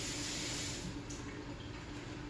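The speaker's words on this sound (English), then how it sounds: "let me rinse my finger off." Water from a tap runs steadily over a finger while okra pickles are being canned, a close, continuous splashing rush with no talk.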